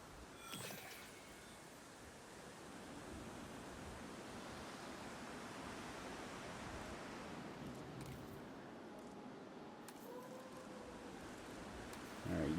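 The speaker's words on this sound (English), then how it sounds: "we got a storm rolling in" Stormy weather in the video game Jurassic World Evolution 3, a faint steady rush of wind and rain with a few distant knocks and a brief tonal sound near the end.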